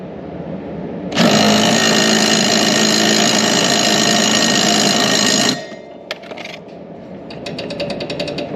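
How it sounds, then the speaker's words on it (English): Impact wrench drives the blade bolt on a John Deere Z355e zero-turn mower deck in one loud, sustained rattling burst of about four seconds, followed by scattered metallic clicks and a quick ratcheting trail-off. "I am actually using the impact socket today with an impact wrench"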